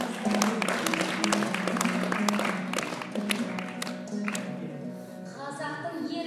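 Audience at a Kazakh radio celebration breaks into sustained applause, dense clapping filling the hall for several seconds before thinning out as a tonal musical sound rises at the end.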